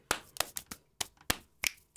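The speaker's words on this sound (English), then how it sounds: "snaps and hand claps" Sharp dry finger snaps and hand claps played as a percussive groove in a gospel music setting, about nine crisp hits spaced irregularly, close and clear against near silence.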